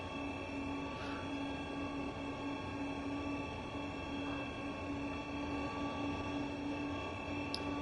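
A DB BR187 electric locomotive hauls a heavy freight train in a rail simulation game, a steady, even running rumble and rolling hum continuing without a break, no voices present.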